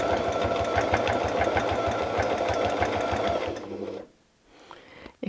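A sewing machine quilts around an appliquéd centerpiece with fast, steady, rhythmic needle stitching, close and loud, then stops abruptly near the end; nobody talks.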